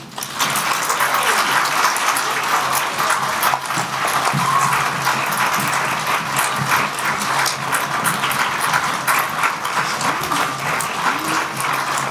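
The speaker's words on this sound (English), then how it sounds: "Give a round of applause for Munchkinland" Steady applause for the Munchkinland performers in a Wizard of Oz stage show, a dense, continuous wash of clapping from an audience, even and sustained without pause.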